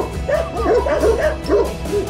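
Sheepdogs guarding a flock of sheep on a Romanian transhumance pasture bark and yip loudly in quick repeated bursts, close by, some barks breaking into whimpering, with no talk.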